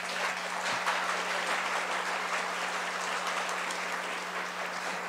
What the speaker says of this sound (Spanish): Agradecemos a nuestros ponentes con un fuerte aplauso.